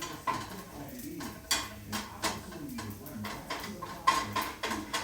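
Bacon pieces and tomato strips cooking together in a pan, with repeated sharp clinks and scrapes of a utensil against the pan over a soft background sizzle.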